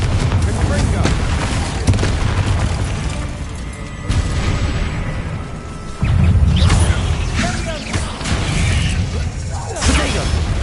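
Confringo blast spells exploding during Hogwarts Legacy combat, several heavy booms and crackling impacts over a continuous rumble of battle effects, with speech mixed in.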